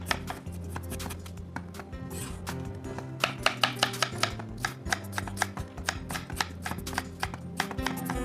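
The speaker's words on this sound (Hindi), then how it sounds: "और इसको बारीक काट के थोड़ा सा छोटा कर दिया जाएगा" A knife finely chopping cabbage on a cutting board, with rapid, regular strokes that start softer and turn into crisp, loud taps in quick succession, and no talking.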